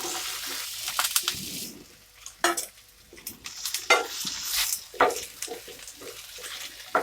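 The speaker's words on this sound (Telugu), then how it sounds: "ఇప్పుడు మనం బెండకాయ చట్నీకి బెండకాయలు వేయించుకుందాము." Thinly sliced okra frying in a little oil for chutney, with close crackling sizzle and repeated stirring scrapes and clatters in uneven bursts, plus a faint watery hiss at times.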